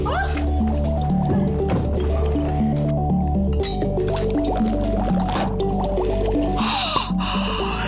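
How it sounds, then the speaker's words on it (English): Blue liquid fizzes and bubbles in a container during an elementary class demonstration, a steady wet churning heard close and fairly loud under excited voices and background clatter. "It's bubbling!"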